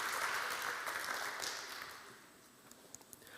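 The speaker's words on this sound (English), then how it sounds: "So a big round of applause for Lara Hoving." Audience applause closing a talk at a poultry health and nutrition seminar at VIV Europe 2022, a broad wash of clapping that is strongest at first, then thins and fades, leaving a few scattered claps at the end.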